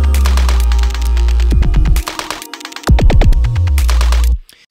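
Drum group playing a beat, run through Beat Repeat set to quarter-note repeats at full chance plus grain delay, with dense stuttering hits, pitch-swept grainy tails and a loud, continuous, glitchy texture that cuts out at the end.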